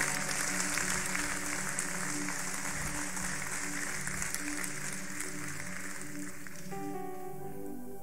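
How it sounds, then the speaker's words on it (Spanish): A church congregation claps for the Lord during a sermon, sustained dense applause mixed with a low musical drone underneath, fairly steady, easing slightly near the end. "Denle un fuerte aplauso al Señor por esto."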